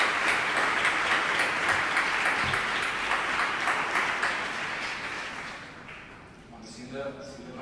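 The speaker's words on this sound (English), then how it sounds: "I will ask you for a round of applause for them" Audience applause at a talk on circular cities, a dense crowd clapping loudly for several seconds before thinning out and fading, then a few scattered claps as a voice begins to speak.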